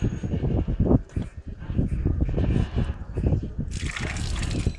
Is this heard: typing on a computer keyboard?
no